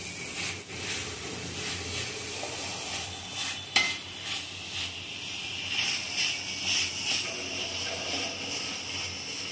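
Grated coconut stirred into melted jaggery in a pan, with a steady soft scraping and faint sizzle running throughout, plus a brief sharp clink of the utensil against the pan midway.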